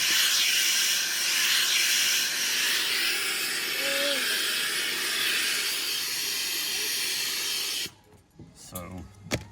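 Handheld steamer hissing continuously and loudly while a cowboy hat is shaped in a western-wear store, a steady close spray that cuts off abruptly near the end, followed by faint handling sounds.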